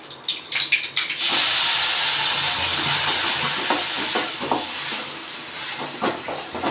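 Ground onion, tomato and coconut paste poured into hot oil for a tamarind peanut curry, a sudden loud hissing sizzle after a few knocks, then steady crackling frying with scattered stirring clatters, close and no talk.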